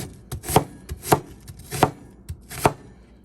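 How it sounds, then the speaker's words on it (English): A knife chopping a yellow onion on a cutting board, with about five firm, evenly spaced thuds and lighter taps between them, close and clear. "And our yellow onion. And also, when I'm cutting these"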